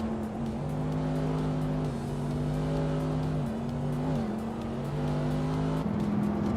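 Engine of a 2015 Ford Mustang GT in a racing video game, a steady loud drone that shifts pitch with gear changes throughout, alone with no talk.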